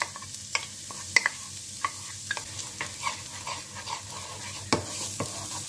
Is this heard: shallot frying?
yes